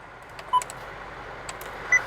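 A Honda Civic EX-L sounds its lock confirmation from the key fob as two short, thin electronic chirps spaced more than a second apart, heard clearly against a quiet background.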